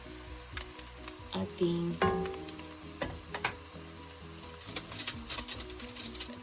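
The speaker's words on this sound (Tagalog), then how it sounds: "Antayin natin maluto yung onion hanggang maging translucent siya." Onion sautés in a pan for chicken sisig, sizzling steadily and close with soft stirring scrapes and a few utensil taps. A voice briefly speaks over the frying.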